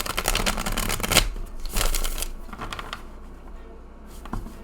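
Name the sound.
shuffling a thick tarot card deck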